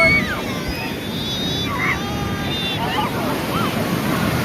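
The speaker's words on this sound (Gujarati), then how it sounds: "પાણી આવ્યું, દરિયો હે ગાંડો તૂર અત્યારે" Rough sea surf breaks on the shore at Somnath, a continuous near roar of waves with wind buffeting the microphone while people talk over it.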